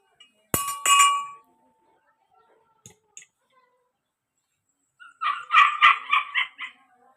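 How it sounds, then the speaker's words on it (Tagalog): A dog barks sharply twice, then after a quiet pause lets out a rapid burst of several yips and barks, close and fairly loud. "Makulit na aso."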